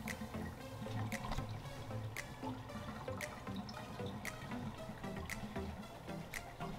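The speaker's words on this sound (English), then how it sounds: "just give this filter time to let all that water drain" Water drains out of a portable twin tub washing machine through its filter, a steady low trickle and gurgle with soft splashes and occasional sharp drips, fairly quiet and close, with no talking.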